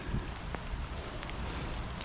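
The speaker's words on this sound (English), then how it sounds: "It is raining again" Rain falling during an early morning bike ride along a canal, a faint, steady hiss of drizzle with a few soft ticks of drops, heard alone with no voices.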